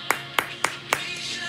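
A church congregation claps hands in worship, four sharp, evenly spaced claps ringing out clearly with no talking over them.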